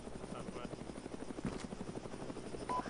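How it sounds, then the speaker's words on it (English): Helicopter in the military game ArmA 3 on the island of Sahrani, a steady rotor drone holding throughout, close and moderately loud, with a brief voice in the background. "Eyes on the heli."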